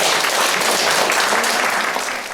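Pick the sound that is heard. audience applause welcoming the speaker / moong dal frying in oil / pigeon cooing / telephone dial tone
audience applause welcoming the speaker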